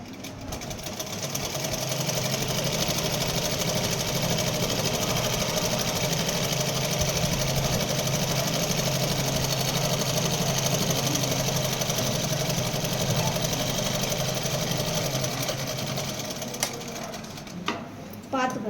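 A sewing machine runs steadily for most of the time while stitching a joint on a chudidar, a continuous mechanical whir that stops briefly near the end.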